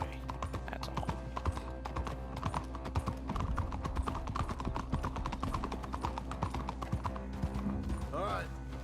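Horse hooves clip-clop steadily in the video game Red Dead Redemption 2, an even run of close hoofbeats with a brief whinny near the end, while someone talks over them.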